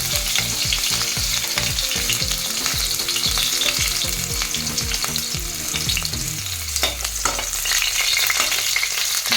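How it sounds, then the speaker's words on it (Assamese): Green chilies fry and are stirred in hot oil. A loud, continuous sizzle comes with rhythmic scraping strokes of the spatula that slow and fade toward the end. "তেল গৰম হৈছে আমাৰ এইখিনি মিক্সাৰখিনি আহিছে প্ৰথমতে মই জলকীয়াটো দি লৈছোঁ"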